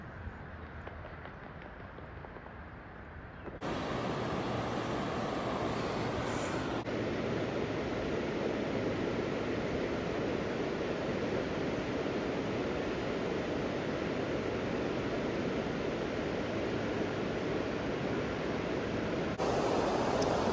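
Water pours over Shrewsbury Weir on the River Severn in Shropshire in February, a steady broad roar that holds at even loudness with no voices.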